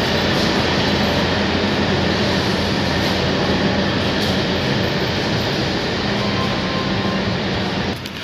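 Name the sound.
ZDM3 diesel locomotive at Firozpur Cantt railway station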